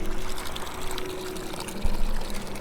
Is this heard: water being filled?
yes